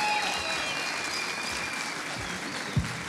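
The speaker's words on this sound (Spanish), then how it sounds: "Un aplauso ahí para Nat" A crowd at a live music show applauds for a performer named Nat as she comes on stage, a steady, fairly loud clatter of many hands with a faint tone running underneath.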